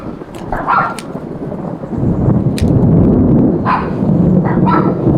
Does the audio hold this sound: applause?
no